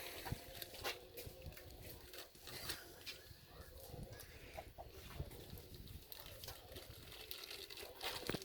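Plastic bag crinkling and rustling up close while preparing chicken cooked in a tin can, mixed with shuffling handling noises and a busy, uneven background.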